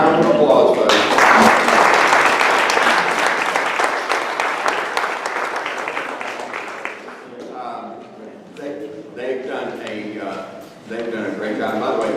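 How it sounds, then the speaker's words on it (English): A meeting audience breaks into loud, dense applause that gradually thins out and fades, with a voice then talking over the last scattered claps. "Round of applause, folks."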